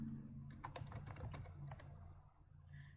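Quick, irregular key clicks from someone typing a name into a sign-up form on a computer keyboard, close and fairly quiet, with no talking.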